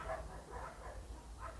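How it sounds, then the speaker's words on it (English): Dogs bark outdoors at a distance, three or four faint, spaced bursts of barking over a low steady background hum. "I apologize for the dogs outside."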